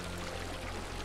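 Water poured from a bucket in the video game Minecraft, a steady rushing, flowing wash heard alone for about a second.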